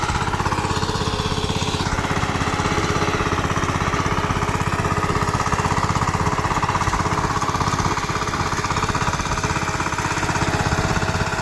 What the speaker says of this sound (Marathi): ट्रॅक्टर चालू केला.